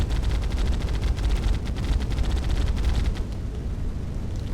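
Weapons firing on an enemy ship in the Moon Breakers space game, a steady, loud barrage of rapid shots and rumbling blasts that runs continuously throughout.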